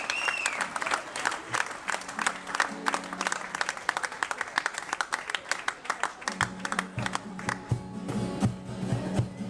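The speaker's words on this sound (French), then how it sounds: "Applaudissez-le." Applause from the crowd at a public meeting, rhythmic and sometimes unified clapping that stays loud for nearly ten seconds, with sustained tones and faint voices mixed underneath.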